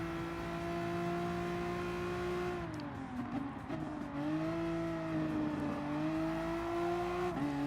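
A VW GTI Supersport VGT with four-wheel drive races through fast corners in Gran Turismo Sport, its loud, steady engine drone dipping in pitch under braking and rising again as it pulls away, with no talking.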